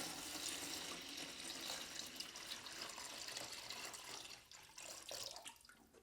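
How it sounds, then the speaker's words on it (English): Water runs from a tap into a bucket mouse trap, a steady rushing splash that holds for several seconds and thins slightly near the end, with no talking. "First we'll add water."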